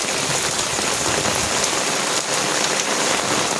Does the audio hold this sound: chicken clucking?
no